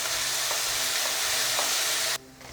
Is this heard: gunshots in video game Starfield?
no